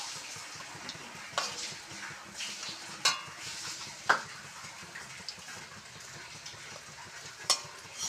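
Pumpkin flower fritters fry in hot oil in a pan, a soft sizzle running beneath several sharp clinks and scrapes as they are lifted out.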